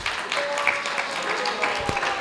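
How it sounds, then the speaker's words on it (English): Audience applause at an ISKCON temple in Dallas for a visiting speaker, a steady dense wash of clapping throughout with a faint tone and small voice traces underneath. "Again, a very big round of applause for Mother Govinda."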